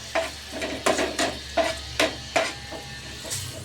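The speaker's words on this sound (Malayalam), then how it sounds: "നമ്മുടെ കറിവേപ്പില ആദ്യം കോരിയെടുക്കട്ടെ" Fried curry leaves scooped out of hot oil with a metal ladle for a restaurant-style chammanthi, giving repeated scraping clinks about every half second over a steady low sizzle, close and moderately loud with no talking.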